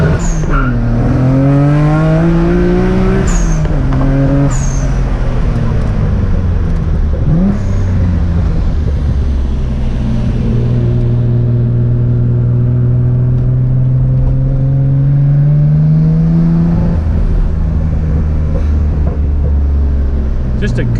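A Nissan R33 GTR making around 400 horsepower at the wheels revs its engine, a loud, close, sustained roar that climbs, falls and settles into steady droning tones.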